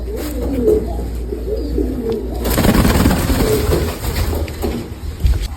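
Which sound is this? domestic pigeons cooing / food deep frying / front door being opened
domestic pigeons cooing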